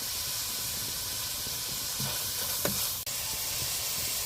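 Onions sautéing in hot oil with green chilli and curry leaves, giving a steady close sizzle and hiss throughout, with a few brief stirring clinks and scrapes near the middle.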